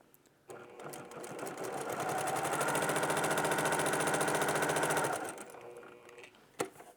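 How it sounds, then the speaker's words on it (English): A sewing machine stitches two 5-inch fabric squares in one steady, rapid run, ramping up after half a second, holding a fast mechanical whir for about four seconds, then slowing to a stop, followed by a single sharp click. "I'm gonna go ahead and take both of these to the machine and sew one right after the other"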